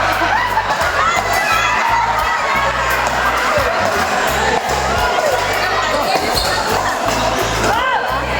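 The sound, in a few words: fans shouting and cheering at pickleball tournament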